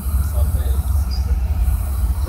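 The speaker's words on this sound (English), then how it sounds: "we got a train coming off the Y" Train coming off the wye near Roseville, a loud low rumble close by with a faint squeal of wheels, under a brief stretch of voice.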